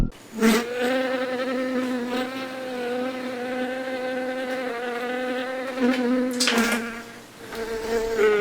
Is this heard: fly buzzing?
yes